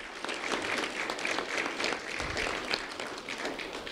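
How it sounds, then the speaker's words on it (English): A crowd gives a round of applause for an award recipient at a community recognition event. The clapping is steady and moderately loud, somewhat distant, and lasts throughout. "Round of applause for Owen Whitaker."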